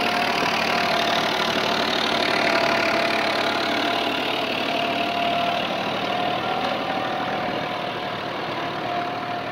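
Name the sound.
New Holland TD65 tractor engine driving uphill out of furrow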